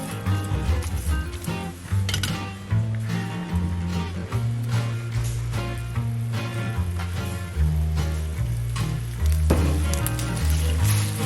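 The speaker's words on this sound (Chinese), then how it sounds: "并不断地拌炒，一直拌炒到酱汁变成浓稠的状态。" Bacon-and-tomato amatriciana sauce is stirred and fried in a pan until thick, sizzling steadily throughout beneath loud background music with a stepped bass line.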